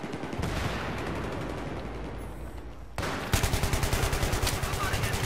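Rapid automatic gunfire in the video game Battlefield 3, with dense rattling bursts throughout and a sharper, louder string of evenly spaced shots in the second half.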